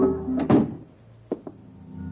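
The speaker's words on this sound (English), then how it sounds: "Close the door." Door in an old-time radio crime drama swinging shut with a solid thunk, followed by two short knocks or latch clicks, close and dry with no voices.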